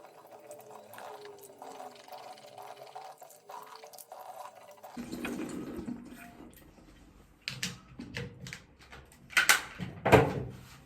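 Tap water runs into a bathroom sink while a face is washed, starting partway through after a quieter stretch, with close splashing and a few sharp knocks and clatters near the end.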